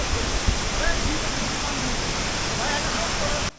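Damtua Waterfall in Bandarban: a loud, steady roar of rushing, falling water filling the whole moment, close and constant, with faint voices barely audible beneath it.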